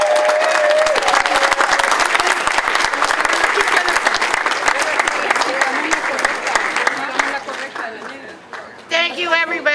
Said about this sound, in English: please big round of applause for our sister Kim Tavaloni